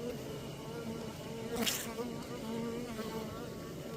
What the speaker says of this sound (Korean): 이게 동양종 꿀벌입니다